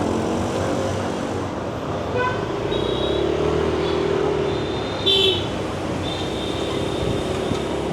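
Street traffic heard from a motorbike riding through Binh Chanh District, Ho Chi Minh City; a loud, steady road roar with engine drone and passing vehicles, a few faint horn-like tones and a brief louder burst near the middle.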